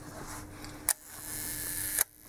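The shutter of a 1970 Leica M4 rangefinder fires at one second: a sharp click opens it, a quiet one-second gap follows, then a second click closes it, close and clear.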